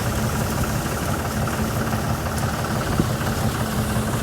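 A tractor engine idles steadily nearby during the wheat harvest, a loud, even low rumble with a constant throb and no pauses.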